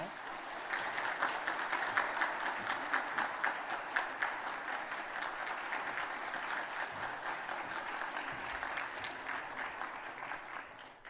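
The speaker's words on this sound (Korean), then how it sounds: "우리 박수로 한번 격려하겠습니다." A room full of people at a church service claps steadily for about ten seconds, a dense, even patter of applause at moderate volume.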